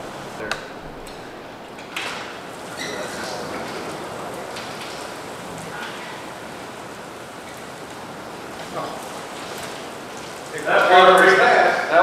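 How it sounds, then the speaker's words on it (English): A steady, dense patter of marble-sized hail on a hard surface near a road, continuing throughout with a louder burst near the end. "Marble-sized hail."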